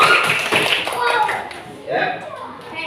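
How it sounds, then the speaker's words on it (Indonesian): Children in a classroom clap their hands together in a dense, lively burst of applause that fades and then swells again, with a voice faintly mixed in. "tepuk tangan lagi terakhir buat Adit."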